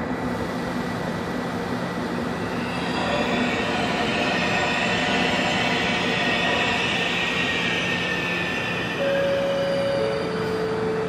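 Regional train rumbling over railway switches in fog at Venice, with a steady, close roar of wheels and carriages, a rising hiss, and brief squealing tones near the end.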